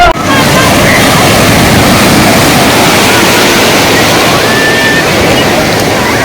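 Sea waves breaking on Perupalem beach in West Godavari, Andhra Pradesh, a loud continuous surf roar close by, with faint voices mixed in.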